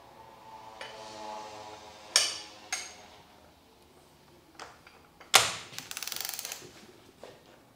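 Wrench clicks and metallic knocks while bolts are tightened on a Porsche 997 Turbo engine, a few sharp taps followed by a quick burst of ratchet clicks, close and fairly quiet.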